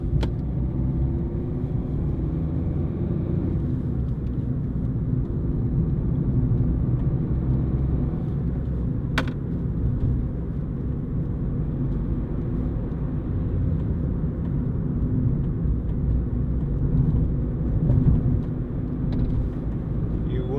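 A 2011 Ford Fiesta 1.4 TDCi diesel three-door panel van drives along with a steady low engine and road rumble heard from inside the cab, continuous and fairly loud throughout.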